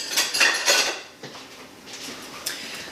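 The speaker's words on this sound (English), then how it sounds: "I need to grab my whisk." Metal kitchen utensils clatter and clink as a whisk is pulled from among them, a few quick rattling bursts followed by softer shuffling, close and fairly loud, no voices.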